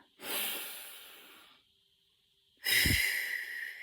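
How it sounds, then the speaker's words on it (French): A slow, deep breath is drawn in during meditation, a close airy inhale that fades out, followed after a pause by a breathy exhale with a soft low rumble. "on fait une grande inspiration"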